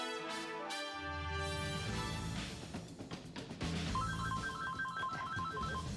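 A telephone rings with repeated electronic trills, fairly close and clear, amid some background clatter and music-like tones.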